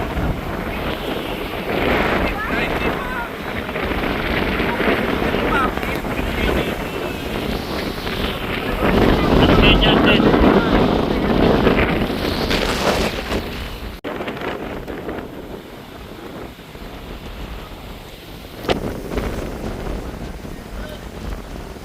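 Strong sea waves and gusting wind during a boat ride off Boracay, a steady broadband roar with wind buffeting the microphone throughout, swelling louder midway and carrying on without voices.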